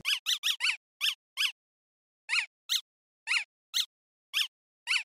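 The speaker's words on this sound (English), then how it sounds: "A simple press of the undo button, and the game reverts your last action, accompanied by the cutest sound ever." The undo button in the Poly Bridge video game gives cute, high squeaky chirps, a quick cluster at first and then evenly spaced single chirps, crisp and isolated against silence.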